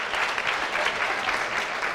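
An audience at an education session claps in a dense, steady burst for a newly introduced speaker, filling the whole stretch at even volume with no voices over it.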